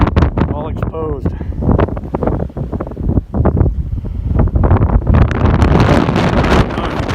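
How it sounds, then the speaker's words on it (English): Strong wind buffets the microphone outdoors beside a giant exposed quartz vein and rock, a constant rough roar with gusts under someone talking throughout. "I don't know if you can hear me because of the wind"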